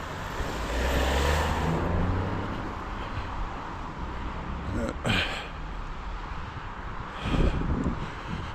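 A car on a roadway slows and stops so a pedestrian can cross, its engine and tyre rumble strong at first and easing off, with wind buffeting the microphone and brief sharp noises later.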